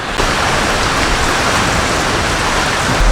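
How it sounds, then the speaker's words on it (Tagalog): Heavy typhoon rain pours down in a dense, continuous roar, loud and close, drumming steadily on surfaces without pause. "Walang tigil ang ulan. Lumalakas pa po"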